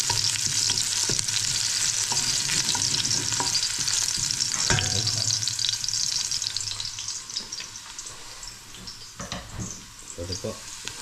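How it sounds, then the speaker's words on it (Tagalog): Mung beans sauté in hot oil in a pan, a steady loud sizzle with scraping stirs, fading a little toward the end. "Gisa natin yung munggo."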